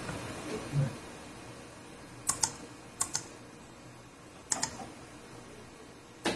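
A few sparse keystrokes on a computer keyboard operated remotely, soft and somewhat distant: short clicks in small clusters separated by pauses over a faint room background.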